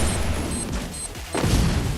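An explosion in a video game: a sudden deep boom bursts out partway through, over a busy background of game noise, with no speech.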